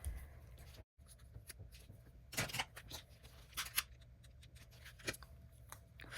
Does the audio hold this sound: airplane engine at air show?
no